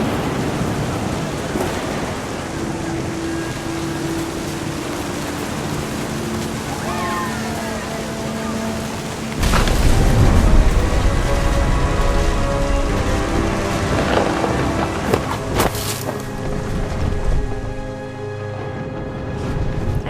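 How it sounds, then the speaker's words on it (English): A thunderstorm with heavy rain from the video game What Remains of Edith Finch: steady hiss of rainfall throughout, with a loud rumbling thunder burst around the midpoint and softer rumbles after, mixed with faint background music. "Thunder sounded much too close and full of angry power."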